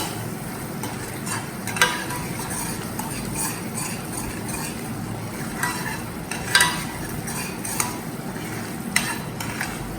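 Masala with red chilli and coriander powder stirred in frying oil for an aloo matar gravy, a steady close sizzle broken by scattered spoon scrapes and clinks against the pan.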